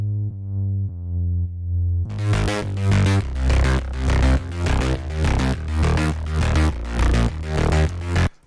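A cyberpunk synth bass from a Killzone Serum patch layered with a sub bass: a soft sustained low tone opens, then a loud, bright, buzzy rhythmic bass line pulses in a steady repeating pattern over deep sub bass.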